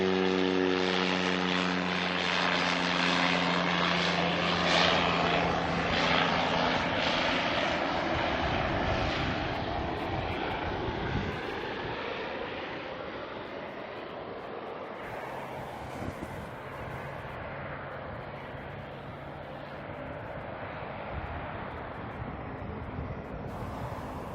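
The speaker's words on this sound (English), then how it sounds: "Another cheeky caravan coming in from Great Barrier Island." A Cessna Caravan propeller plane arriving from Great Barrier Island lands at Auckland Airport, its steady droning engine and propeller roar loud and close, easing slightly toward the end with wind in the background.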